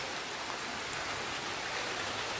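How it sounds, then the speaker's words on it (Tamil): Heavy rain pours at the Kulathupuzha Bala Sastha temple in Kollam district, Kerala, as one unbroken, fairly loud wash of hiss, with no talking heard. "மழை பலமாக பெய்யுதுங்க."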